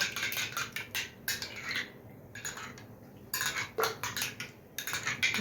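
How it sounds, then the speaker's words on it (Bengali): A spoon stirs yogurt mixed with sugar and black salt in a bowl, giving quiet clinking and scraping in short bursts with brief pauses between them and no talking. "দইটার মধ্যে চিনি আর বিট নুন দেওয়া আছে, আমি এটা ভালো করে মেখে নিই"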